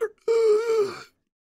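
A voice imitates a person in the distance gasping for air: a short breath, then one drawn-out strained, moaning gasp that fades out.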